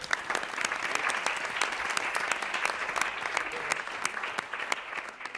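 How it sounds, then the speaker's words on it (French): Audience applause at a Cannes 2023 press conference for the film Le Retour, a steady, dense patter of many hands clapping throughout, moderately close with no voices. "Alors on peut l'applaudir."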